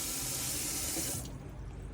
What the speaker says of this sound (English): that'll allow you then to draw the water through the taps